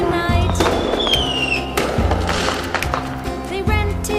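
Fireworks explode on Bonfire Night, with sharp, booming bangs at irregular intervals over a steady, busy background.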